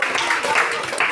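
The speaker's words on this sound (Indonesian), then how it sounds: "Tepuk tangan dulu." Schoolchildren in a classroom clapping together after a goal in a ball game, a short burst of dense, close applause lasting about a second.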